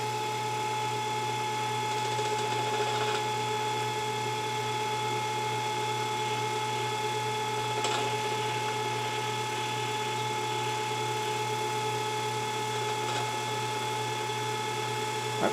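A Proxxon 150 lathe cuts brass with a cutoff bit, giving a steady, loud whining machine drone with fixed tones throughout and a few brief sharper squeals, no voices.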